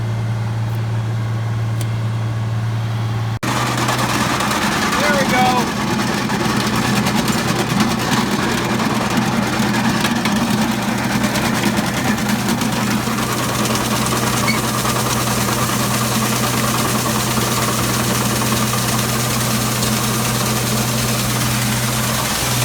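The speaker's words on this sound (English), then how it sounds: "I just gotta turn this auger on." Farm equipment runs with a steady low engine drone. After a few seconds a grain auger switches on and adds a louder, rougher mechanical churn that continues unbroken to the end.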